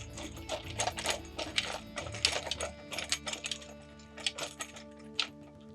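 Threaded metal parts click and rattle as a leg is screwed onto a Burch Barrel grill, a busy stream of close clinks and scraping turns with no talking.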